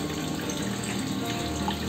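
Soaked tamarind juice poured into a goat head curry in a pan, a steady continuous liquid stream running close and unbroken for the whole stretch, with no voices.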